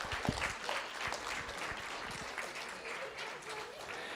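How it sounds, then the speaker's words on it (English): An audience applauds at a Boerne ISD school board meeting, giving a steady spread of claps at moderate volume with faint voices mixed in. "Let's give the Whole Child Department a round of applause this evening."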